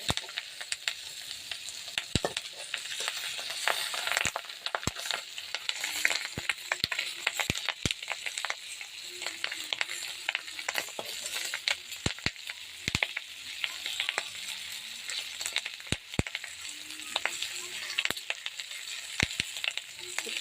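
Food frying in hot oil, with a steady sizzle broken by frequent sharp spattering pops throughout; no one speaks.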